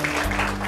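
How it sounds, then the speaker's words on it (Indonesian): A classroom of Form 4 Malay-language students gives a short burst of clapping for a classmate about to recite a modern poem, a steady patter of hands over low room hum. "Tepuklah tangan sikit untuk kawan kita"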